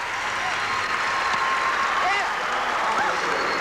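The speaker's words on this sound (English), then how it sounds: "Excellent, and listen to the crowd." A large crowd at a 1989 Olympic Sports Festival gymnastics event applauds loudly and continuously, a dense wash of clapping with a few cheers and voices rising above it.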